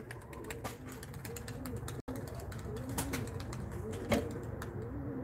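A five-year-old tumbler pigeon coos softly in a steady, low murmur, faint and somewhat masked by background noise and scattered clicks.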